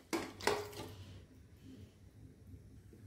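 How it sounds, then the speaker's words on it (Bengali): Seasoned raw mutton goes into a pressure cooker in a home kitchen, two quick metallic clanks and scrapes of meat and utensil against the pot, followed by quiet handling noise. "তো এবার এটাকে আমি কুকারে দিয়ে দেবো।"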